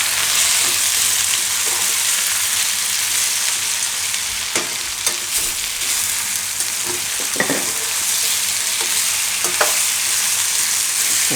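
Thinly sliced potatoes and aubergine fry in a pan, a steady loud sizzle broken by occasional scraping clinks as the pieces are stirred and turned, heard close up without speech.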